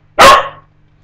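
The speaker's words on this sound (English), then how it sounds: "If you hear that barking, I know it's annoying" One loud, close dog bark, short and punchy, standing alone in otherwise quiet surroundings.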